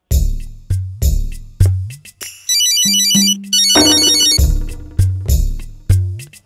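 A mobile phone rings with an incoming call, its electronic ringtone repeating loud and close in bursts of plucked tones and a brighter melodic run, with no speech over it.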